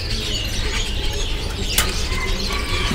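Caged lovebirds at a bird market kiosk flutter their wings in a steady rustling under a busy, noisy background, with faint chirps and one brief sharp burst.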